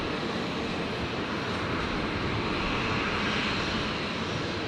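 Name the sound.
Rescue 533 aircraft departing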